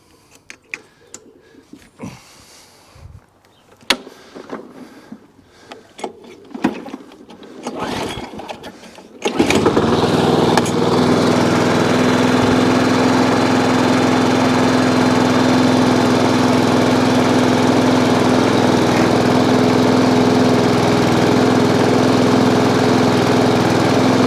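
A lawn mower engine tries to fire with a few uneven knocks and bursts, then catches and settles into a loud, steady drone that runs on without a break.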